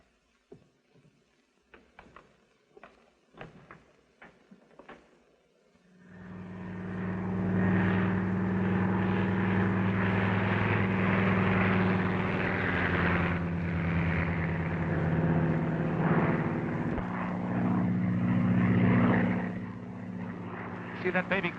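Propeller airplane on a test flight: after a few seconds of sparse knocks and quiet, the engine roars up to a loud, sustained droning hum with a steady pitch that swells again near the end.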